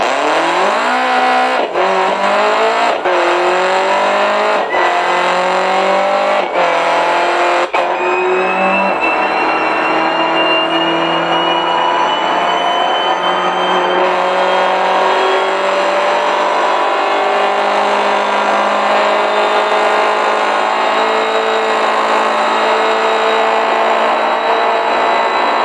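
A race car engine in a video game revs hard and climbs through the gears, with sharp shift breaks early on and then a long rising roar, loud and continuous with no talk.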